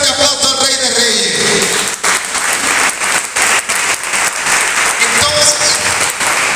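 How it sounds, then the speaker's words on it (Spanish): A church congregation applauding loudly for the King of Kings, a full, sustained burst of clapping with voices and cheers mixed in throughout. "Denle un fuerte aplauso al Rey de Reyes."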